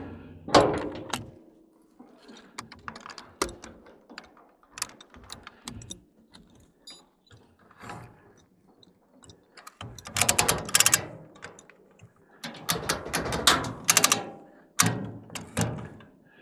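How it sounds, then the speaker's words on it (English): Ratchet binder clicking and clanking as it tightens a log chain on a trailer load, with irregular bursts of metallic ratcheting and rattling, loudest toward the end. "This binder, this ratchet binder, that's the ticket."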